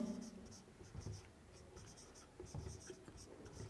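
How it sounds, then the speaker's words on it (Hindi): Handwriting notes on a page: several soft scratchy pen strokes in short bursts, close and quiet, with no talking. "तो थोड़ा सा लिख लेता हूँ"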